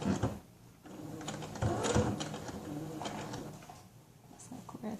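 A sewing machine stitches elastic into a GroVia hybrid cloth diaper shell during a repair, running in short mechanical bursts with pauses and soft handling noises between.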